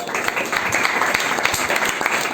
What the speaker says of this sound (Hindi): जो बैठ सकते हो सरलता से हमारी माता जी के लिए एक बार तालियां बजाओ